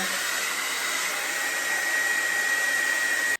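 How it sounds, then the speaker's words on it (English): A blow dryer runs continuously, close and loud, heating an eyelash curler with a steady whooshing roar, then cuts off abruptly at the end. "If I plug my blow dryer in, I can heat it up."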